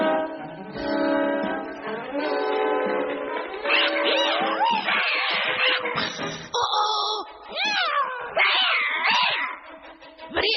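A cartoon cat meows and yowls in drawn-out, wavering cries, loud and close, mixed with short bursts of other cartoon voices and music.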